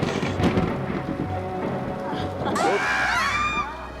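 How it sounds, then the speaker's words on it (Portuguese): Thunder in a children's TV castle scene, a low rumbling roll with rain-like noise throughout, building to a louder crack and rumble near the end, with higher whistling tones layered over it. "Raios e trovões!"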